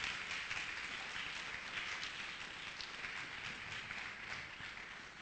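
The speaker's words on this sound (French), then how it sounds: "Applaudissez le Seigneur Jésus." Church congregation applauding during a sermon, a soft, distant, steady wash of clapping with no talk over it.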